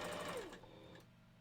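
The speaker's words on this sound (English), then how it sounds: "I'm sewing something right now that's kind of on a curve." A sewing machine stitches pieces of fur together along a curve for a wolf costume head, a brief close whirring run that slows and stops after about a second.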